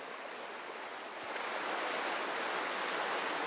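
Rushing floodwater torrent pouring through a flooded town street in France, a steady broad roar of churning water that swells slightly louder partway through and continues without pause.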